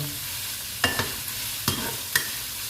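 Thai rice noodles and vegetables stir-fried in a wok, a steady hiss broken by three or four sharp scraping clatters of the spatula, close and alone without voices.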